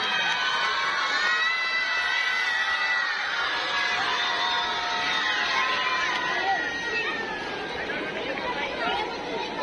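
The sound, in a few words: children cheering and applauding for school team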